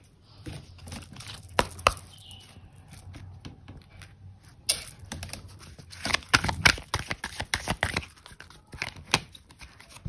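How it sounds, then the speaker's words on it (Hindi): Tarot cards being shuffled by hand, heard as bursts of crisp riffling and slapping card noise in uneven clusters, close and fairly loud with quiet gaps between. "कार्ड्स को अच्छे से मिक्स कर लेते हैं"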